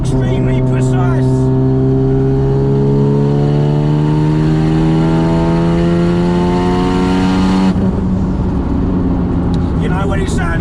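A 500 WHP Mazda RX7 FD3S rotary engine revs hard and steadily climbs in pitch for several seconds, loud and close, then cuts off abruptly, with some talk at the start and end.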